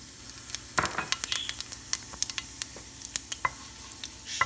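Cumin seeds sizzle and crackle in hot oil with fenugreek seeds, giving a steady frying hiss dotted with quick pops and spatters. It is close and alone, with no voices.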